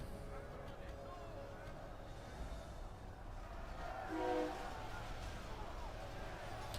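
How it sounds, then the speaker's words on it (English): A train passes near a house, its horn sounding briefly around the middle as a sustained tonal blast over a low steady rumble, faint and somewhat distant. "Crikey, there's a train going past my house."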